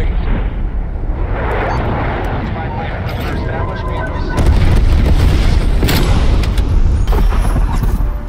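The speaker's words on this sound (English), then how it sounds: "Enemy napalm strike incoming." An enemy napalm strike rumbles in a first-person shooter video game, heavy booming explosions rolling over a continuous dense roar, swelling louder partway through, with someone talking over the blasts.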